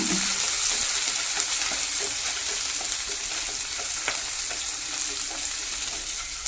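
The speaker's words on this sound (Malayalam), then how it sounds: "അതേമാതിരി വെളുത്തുള്ളി, ഇഞ്ചി, ചെറുള്ളി ഇട്ട് കൊടുത്തുക്കണേ." Garlic, ginger and shallots fry in a hot pan with a steady, close sizzle and crackle that runs unbroken throughout, with a few light stirring clicks and no voices.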